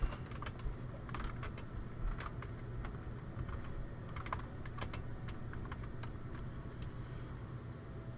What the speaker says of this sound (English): Let me type something to Scott.